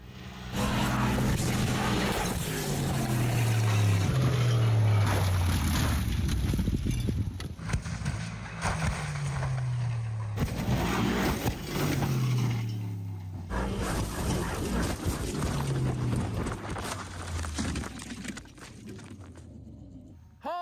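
A Mercedes G63 rolls and rattles continuously downhill, with mechanical clatter, bumps and a steady rumble throughout, no voices.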